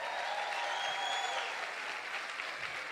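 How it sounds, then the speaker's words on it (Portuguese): A crowd applauding at a sermon, a dense patter of many hands clapping at once, steady and fairly distant, with a brief voice near the start. "Dá um aplauso para ele aí."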